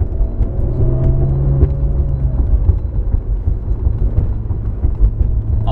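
Maserati Ghibli SQ4 in sport mode running inside a garage, a loud, deep continuous engine rumble with a low droning tone, steady throughout with no speech over it.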